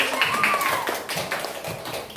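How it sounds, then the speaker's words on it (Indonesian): Children in a classroom clap their hands together in a brisk, uneven patter that fades slightly toward the end, with a little chatter mixed in. "Tepuk tangan untuk semuanya."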